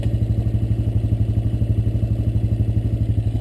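A Honda Recon ES four-wheeler ATV runs on a ride, its engine giving a steady close, loud, low chugging putter with an even pulsing beat throughout.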